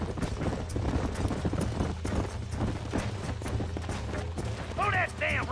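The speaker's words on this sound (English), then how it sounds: "There's the horses!" Horses gallop with rapid clip-clop hoofbeats in the Red Dead Redemption video game, a herd running at a steady pace under a voice, with game music and effects behind them.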